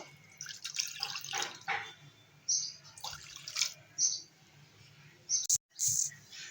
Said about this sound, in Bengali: ডালটাকে নামিয়ে নেব এই কড়াতেই কিছুটা জল দিয়ে দেবো